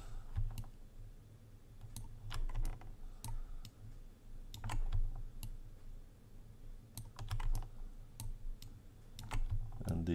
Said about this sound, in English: we're gonna right click our vertex, and we're gonna grab these vertices on the corner